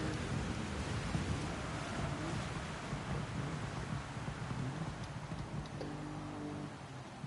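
Heavy rain pours in a Gran Turismo 7 race at Fuji Speedway, a dense, steady hiss of downpour with faint low rumbles beneath, quiet and continuous without voices.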